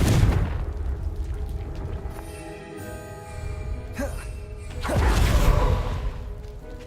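Spells are cast in the video game Hogwarts Legacy: booming blasts and whooshes with ringing tonal effects, a softer lull midway, then a louder burst near the end.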